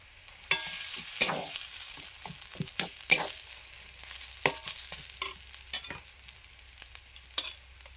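Ginger and garlic fry in a pan with dried chili. A faint sizzle runs underneath while a spoon stirs and knocks against the pan in scattered, irregular clatters.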